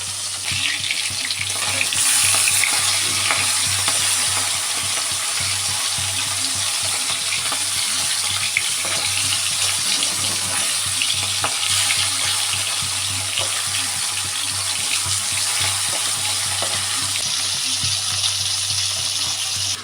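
Fish fries in a pan with a loud, continuous sizzle and crackle that holds steady throughout, heard close and with no voices.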